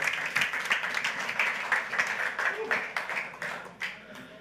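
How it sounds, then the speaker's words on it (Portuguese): A church congregation claps in praise, a steady patter of applause that swells and fades under a voice speaking over it. "Dê um aplauso ao Senhor"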